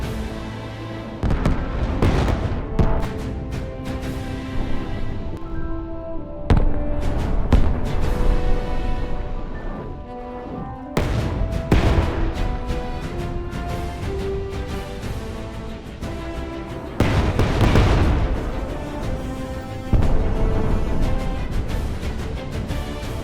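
Missile volleys and explosions thunder in the naval combat game From the Depths, coming as loud, repeated bursts of booms and crackling blasts separated by brief lulls, with no talking.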